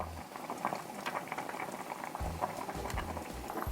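Water bubbling at a rolling boil with potatoes in it, with soft popping and gurgling over a low hiss, fairly quiet and close.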